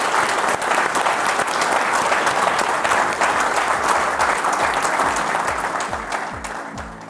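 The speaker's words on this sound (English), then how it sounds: "Big round of applause, if you will, for our panel." Sustained applause from a conference audience honouring a Farmers Weekly Question Time panel at an agronomy event, dense and steady for several seconds before tapering slightly at the end.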